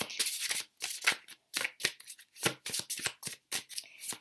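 A deck of meditation inspiration cards is shuffled by hand during a tarot card reading, a close series of quick papery riffles and slaps in an uneven rhythm with short pauses between bursts.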